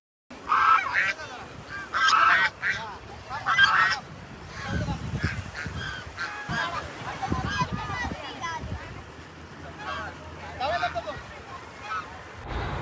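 Ducks honk and call at Dhom Dam lake near Wai, Satara, loud bursts in the first few seconds followed by scattered quieter calls over low outdoor rumble and faint distant voices.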